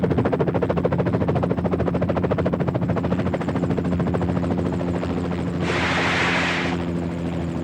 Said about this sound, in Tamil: உனக்காகவே ஹெலிகாப்டர் வெயிட் பண்ணுது